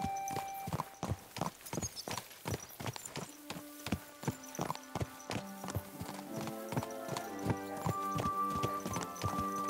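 Steady clip-clop of horse hooves in Kingdom Come: Deliverance II, regular and fairly close, with a musical score swelling underneath toward the end.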